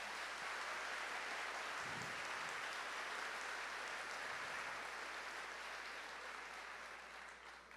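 Church congregation applauding during a sermon, a dense steady wash of clapping from many hands in a large hall that slowly fades at the end.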